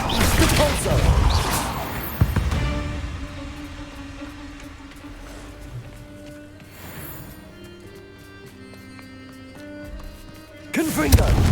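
Depulso force-spell impacts in the video game Hogwarts Legacy: loud broadband blasts near the start, at about two seconds, around seven seconds and at the end, separated by a low, droning game soundscape with faint tonal hums.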